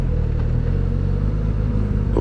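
A 2024 Suzuki GSX-S1000 GT motorcycle engine pulls hard under acceleration, a loud, close, continuous low rumble with a steady drone and wind noise, no talking.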